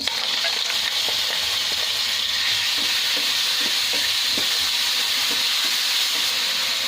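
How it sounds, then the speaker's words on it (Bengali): Marinated chicken frying in hot oil in a wok, giving a loud, steady broadband sizzle with scattered crackles and pops throughout, close up and with no talking. "এখন দিচ্ছি ম্যারিনেশন করা চিকেনটা।"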